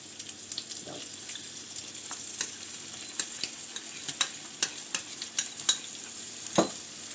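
A spoon stirs sour cream into a mixture in a pan, producing soft scraping and clinking taps that gather pace over a faint steady sizzle, with no talking.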